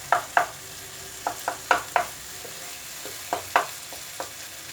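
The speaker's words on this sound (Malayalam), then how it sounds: "ഒന്ന് ഈ ഇതുകൊണ്ട് ഇങ്ങനെ ഒന്ന് മാഷ് ചെയ്ത് കൊടുക്കാം." Tomato and potato being mashed in a pan for a potato capsicum dry curry, with a dozen or so sharp, irregular taps and scrapes of the utensil against the pan over a soft, steady sizzle.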